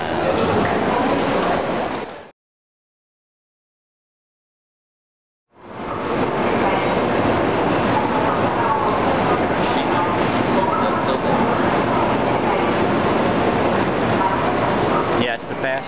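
Loud steady rumble and rushing noise inside a Shinkansen bullet train riding from Tokyo to Kyoto, Japan, breaking off into a few seconds of silence before the continuous roar returns.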